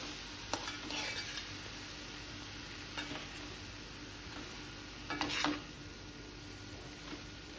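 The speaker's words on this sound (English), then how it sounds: "Mix it all well." Dry shrimp and brinjal are stirred in a frying pan: a faint sizzle runs underneath while a spoon scrapes the pan in a few irregular strokes.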